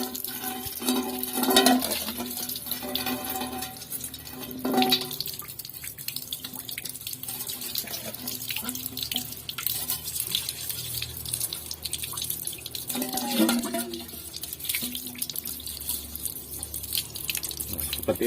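Water runs from a tap while a cleaned, once-burnt cooking pot is rinsed, a steady splashing wash with a few clunks of the pot, close by.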